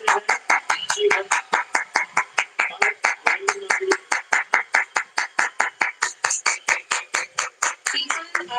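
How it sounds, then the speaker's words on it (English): Crowd at the Chandrayaan-3 moon landing broadcast clapping in a fast, even rhythm, sharp claps repeating steadily throughout with a faint voice underneath. "People are applauding,"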